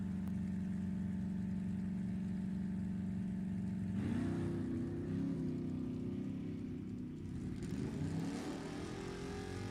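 A '69 Mustang and another drag car at an NHRA Division 7 E.T. bracket final sit idling at the line with a steady low engine drone, then launch hard around the four-second mark into a loud, rising roar that holds and sustains to the end.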